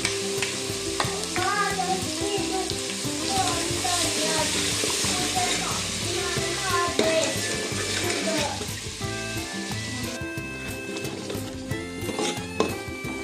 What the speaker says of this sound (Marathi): तर हा मसाला जो आहे ते थोडाफार आपण भाजून घेऊ